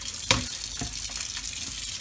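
Hot water runs from a tap over a frozen egg, a steady hiss and splash with a sharp clatter near the start and a few softer knocks afterward.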